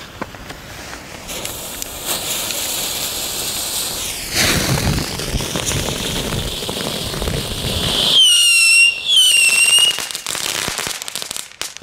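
Loud fireworks and firecrackers bang and crackle continuously for the whole stretch, with dense bursts, a sharp blast partway through and whistling, hissing shells near the end, all close by and with no talk.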